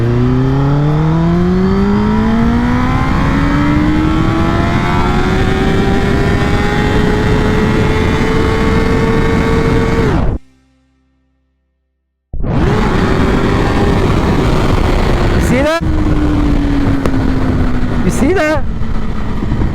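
A 2022 Kawasaki Ninja ZX-10R liter bike accelerates hard in first gear in low power mode, its engine note climbing steadily and loud for ten seconds, cutting out abruptly, then roaring back with quick gear-change dips while a rider speaks briefly.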